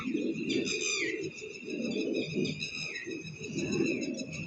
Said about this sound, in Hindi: ये टटीरियाँ देखो कितनी बोल रही हैं ना